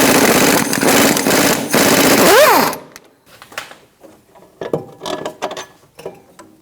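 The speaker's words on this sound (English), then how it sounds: "Using a 17mm socket, I'm gonna take this bolt out." A 17mm socket on a ratchet or impact tool loosens a bolt on a 2002-2006 Honda CR-V rear control arm, a loud buzzing burst with a rising whine followed by quieter clicks and clunks.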